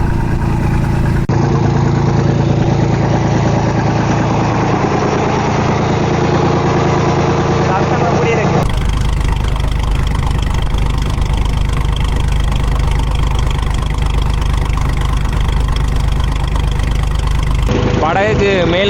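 A boat engine runs steadily after starting, a constant low droning rumble with an abrupt shift in tone partway through, continuing loud and close throughout.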